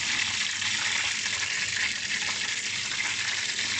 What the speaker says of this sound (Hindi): तेल गर्म हो चुका है, अब इसके अंदर हम प्याज डालते हैं।